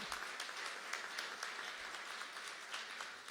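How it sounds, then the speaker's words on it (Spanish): An audience at a business school anniversary ceremony applauds, a steady moderate clapping with individual claps standing out, fairly even and unbroken from start to finish. "Un aplauso, por favor."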